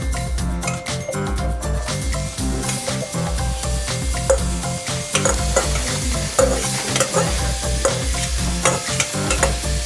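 Chopped onion and garlic stirred with a spatula in a hot frying pan, with a steady sizzle under busy scraping and light clinks of the utensil against the pan throughout, no voices.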